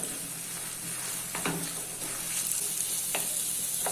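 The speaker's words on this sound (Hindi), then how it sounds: "अभी इसमें कटे हुए ऑनियन ऐड कर देते हैं और मिक्स कर लेते हैं।" Chopped onions fry in oil with garlic paste in a pan for veg soya keema, giving a steady, close hissing sizzle broken by two or three sharp clicks of a spoon mixing them in.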